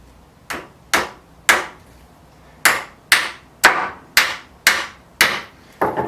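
Hammer blows drive nails into a wooden canvas stretcher frame, ten sharp strikes in a steady rhythm with one short pause, each crack ringing close and loud before fading.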